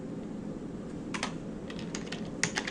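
Quiet typing of HTML code on a computer keyboard, a few scattered keystroke clicks and short runs over a soft steady background hum.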